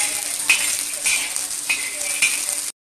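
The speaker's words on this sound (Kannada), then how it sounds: "ನೆಲಗಡಲೆ ಚೆನ್ನಾಗಿ ಫ್ರೈ ಆಗಬೇಕು" Peanuts sizzling in hot oil in a pan while making green tomato chutney, a steady frying hiss punctuated by rhythmic scraping and stirring strokes about every half second.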